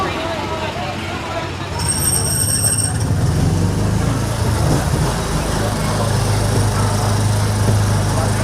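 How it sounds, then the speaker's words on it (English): A Disneyland monorail train glides past beside the Autopia track, a steady low rumble building from about two seconds and holding to the end, with people talking over it throughout. "Train, monorail."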